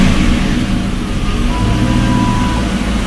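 An old car's original stock engine idles with a steady, low rumble, loud and close, holding an even pitch throughout with no speech.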